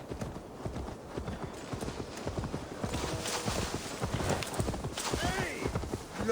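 Horse hooves clip-clop in a quick, steady rhythm as a mount trots through the open world of Assassin's Creed Valhalla, with a faint neigh near the end.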